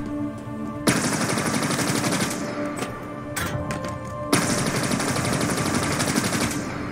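Rapid automatic gunfire in Halo Infinite rattles out in two loud sustained bursts, each running a couple of seconds, separated by a short pause with scattered single shots and impacts.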